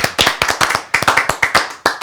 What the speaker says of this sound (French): Il s'agit d'Adrien Marco qu'on peut applaudir très fort quand même